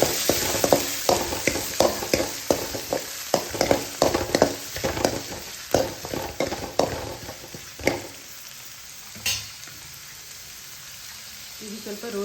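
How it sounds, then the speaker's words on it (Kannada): Onion, green chillies and tomato frying in a pan for egg burji, with a run of sharp scraping stirs and spatters in the first two thirds that then settle into a softer, quieter sizzle. "ಅದಾದಮೇಲೆ ಮೆಣಸಿನ್ಕಾಯಿ ಹಾಕ್ಕೊಳ್ತಿದ್ದೀನಿ."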